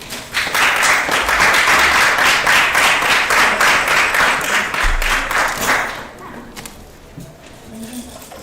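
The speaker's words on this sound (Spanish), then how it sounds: "vamos a darle un gran aplauso al sironeto que viene de Velvet Jody Speed" Loud, dense applause from a crowd at a cosplay stage contest, sustained for about six seconds before fading into quieter murmuring and a few scattered sounds.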